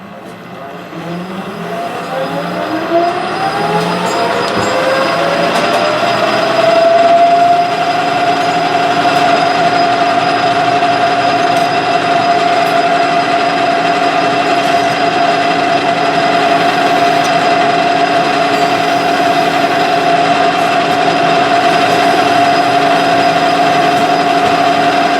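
A bearing-bore edge on a Hemingway Kit compact rotary broach part is buffed to remove a slight burr, with a motor spinning up to a loud, steady whine that holds close and constant throughout.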